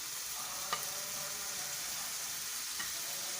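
Chopped medium tomatoes frying in a pan with minced meat keema, a steady close sizzle throughout with a couple of faint stirring clicks, no talk.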